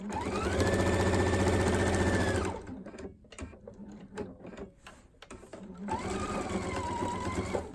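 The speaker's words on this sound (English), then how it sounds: "And then I'll just stitch until I get to be 1/4 of an inch away from the" A sewing machine stitches quilt binding in two fast whirring bursts, separated by a few seconds of quieter handling clicks and rustling.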